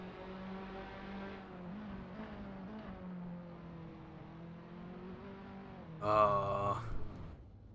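A Formula-style race car in a racing game on a timed lap at Interlagos, its engine droning and shifting pitch steadily before a louder, harsher rev burst near the end.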